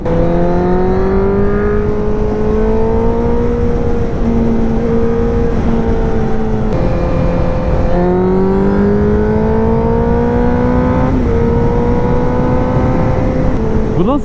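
A 1000cc motorcycle pulls hard with the throttle open, its engine note climbing through several gears with short dips at each shift, loud and close with steady wind rush, no speech.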